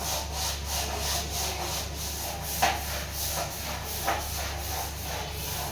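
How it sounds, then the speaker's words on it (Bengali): A brush scrubs a bathroom surface with red Harpic cleaner in steady, rhythmic back-and-forth strokes, close and loud, a continuous rasping hiss with no talking. "ব্রাশ ফ্লিপকার্টে, আর মোরের লাল হারপিক দিয়ে আমি এখন ঘষছি আমার বাথরুম।"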